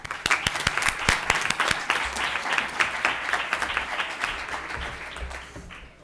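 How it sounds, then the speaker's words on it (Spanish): At a university debate tournament final, an audience applauds a vice-rector with brisk, sharp claps that start strong and gradually thin out and fade over a few seconds. "Un aplauso."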